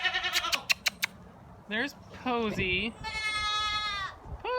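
Goats on a family farm bleat in long wavering calls, one close and loud, mixed with sharp clicks and people chatting and calling out nearby.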